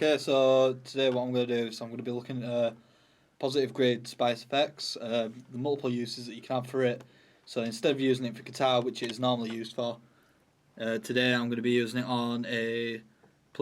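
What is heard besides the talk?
None of the usual background noises is heard.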